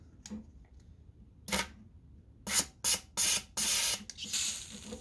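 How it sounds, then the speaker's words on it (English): Brake cleaner hisses from an aerosol can onto Coyote 5.0 fuel injectors in several close bursts, short at first and then longer sustained sprays, with no talking. "So I'm holding down the brake cleaner, no leaks."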